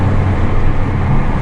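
An Alfa Romeo's 2.2 litre 4-cylinder engine drones steadily from inside the cabin while driving, a loud constant low hum with road rumble and no talking.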